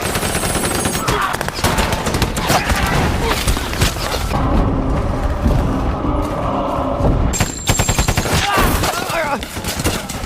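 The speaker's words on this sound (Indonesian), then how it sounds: "prajurit Jerman sudah bersiap dengan senjata mesin mereka" Machine gun fire from a war film scene where German soldiers fire on Soviet troops in trenches. Dense, continuous rattling bursts mixed with heavy booms and thuds, loud and close throughout.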